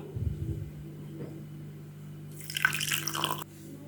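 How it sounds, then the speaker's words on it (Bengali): Milk poured from a container over flattened rice with sugar in a bowl: a short, close liquid splash and trickle lasting about a second, after a few soft handling sounds. "এরপরে হচ্ছে এই দুধটা ঢেলে দেবো"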